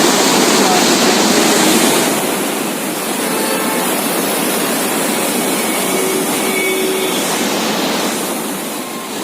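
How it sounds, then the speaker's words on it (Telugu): Floodwater rushing past the Khammam main bridge, a loud steady roar of broad churning noise that dips slightly midway and fades a little at the end, with a voice faintly audible under it. "ఖమ్మం మెయిన్ బ్రిడ్జ్కి ఆనుకొని పోతున్నాయి నీళ్ళు."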